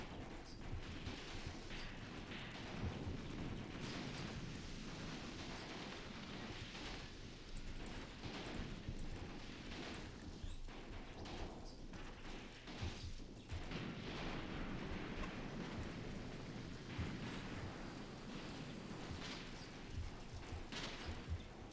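Gunfire and explosions in the war game Graviteam Tactics, set in South Africa during Operation Moduler: a continuous, fairly faint barrage of shots and booms with repeated bursts, without speech.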